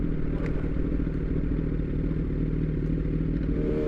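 A Yamaha R1 motorcycle engine throbs steadily close by while riding, with a dense low rumble and clattering texture and faint wind noise, and no clear sharp revs standing out.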